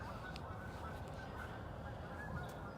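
Geese honk faintly in the distance over a steady outdoor background at a wilderness campsite, a few scattered calls and no nearby talking.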